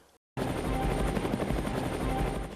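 Helicopter flying overhead near the Chernobyl area, spraying diluted PVA glue onto beaches; a loud, close, continuous rotor roar with rapid thudding blade beats starts abruptly after a short silence.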